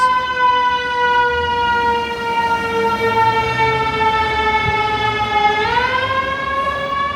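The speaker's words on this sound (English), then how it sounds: "It's an ambulance." An old-fashioned wailing ambulance siren passes along a Brooklyn city street, loud and continuous, its steady tone sliding in pitch near the end as it goes by, over traffic rumble.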